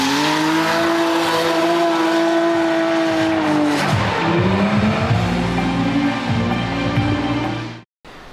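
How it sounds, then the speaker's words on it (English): A 600-brake-horsepower competition car skids, with a loud, sustained tire squeal and a roaring, revving engine close by, holding steady for several seconds before cutting off abruptly. "It does good skids."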